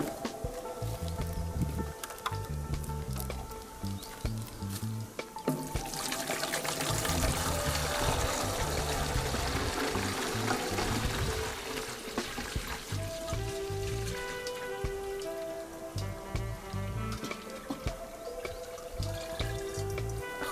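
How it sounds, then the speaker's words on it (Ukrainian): Water poured into the tank of a Grunhelm GHS-8 battery-powered sprayer, a steady splashing gush lasting several seconds, framed by quieter trickles and light plastic handling noises. "Заливаємо воду."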